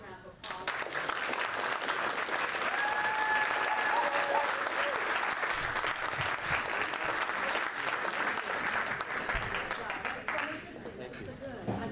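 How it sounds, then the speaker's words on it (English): An audience at an Appalachian studies conference gives a loud, sustained round of applause that fills the room for about ten seconds before tapering off, with crowd chatter and voices mixed in. "Let's give a big round of applause."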